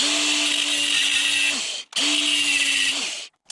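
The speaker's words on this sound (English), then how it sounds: "That's the little nubbin that I'm just going to grind off." A power tool grinds a small nub off the right-hand brake-side handlebar control of a Honda CRF300L motorcycle, two steady whining passes heard up close, each about a couple of seconds long, with a short pause between them.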